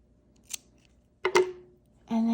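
Scissors snip through yarn after weaving in the ends: one faint click, then a sharper double snip close by, followed by a brief unrelated sound.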